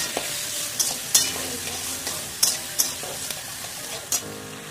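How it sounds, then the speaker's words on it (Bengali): Potatoes, carrots, eggplant and beans fry in a pan while a utensil stirs them, giving a loud, continuous sizzle broken by sharp scraping and clattering strokes, with no voices. "দিয়ে আমি এটাকে নাড়াচাড়া করে নেবো ভালো করে"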